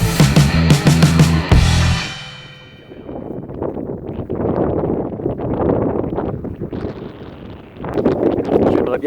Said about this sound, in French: Je sais pas si on va m'entendre avec le vent